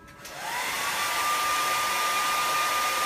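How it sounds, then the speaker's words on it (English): A hair dryer switches on and ramps up to a steady, loud whooshing blow with a high motor whine, held while heat-drying a blood smear sample on a slide, with no talking. "it needs to be heat dried with your hair dryer for about 20 seconds"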